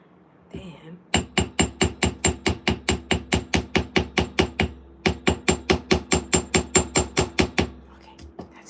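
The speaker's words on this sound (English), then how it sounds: "Hammering so hard, I'm pressing the back of the hammer into my wrist." Steady run of about thirty sharp, loud hammer strikes in an even rhythm during a late-night beading project, with a brief pause midway before the pounding resumes close by.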